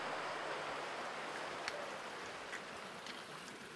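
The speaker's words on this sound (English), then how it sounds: "From one of the thousands of glacier-fed streams here in Denali National Park, in the heart of the Alaska wilderness" A glacier-fed stream in the Alaska wilderness of Denali National Park rushes steadily close by, a dense, even hiss of flowing water with faint splashes and no voices.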